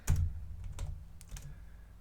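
Keystrokes clatter on a computer keyboard during a database query-tuning session, a few quick clicks in a short burst, close and fairly clear, with no talking.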